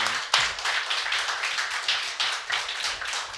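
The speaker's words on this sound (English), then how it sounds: "Round of applause." An esports crowd at the CS Summit 2 grand finals, a Counter-Strike match between Cloud9 and Team Liquid, claps steadily in a dense, continuous burst of applause with no talk over it.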